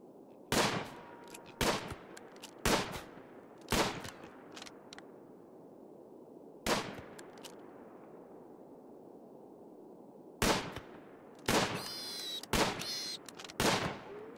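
Gunfire in the video game RimWorld: sharp single shots ring out at irregular intervals, some in quick pairs near the end, each trailing off over a low, quiet background.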